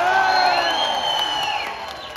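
A large crowd at a party leadership election results announcement in Nepal cheers and whoops loudly, a dense sustained roar of voices with applause that eases slightly toward the end.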